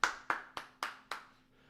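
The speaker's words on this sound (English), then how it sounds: "Give me a round of applause." Five sharp hand claps in a steady, slightly spaced rhythm, close and fairly quiet, each with a short decaying ring, alone with no talking.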